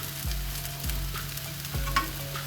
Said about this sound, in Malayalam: ഇനി ഇതിനകത്ത് 2 തണ്ട് കറിവേപ്പിലയും കൂടി ഇട്ട് കൊടുക്കാം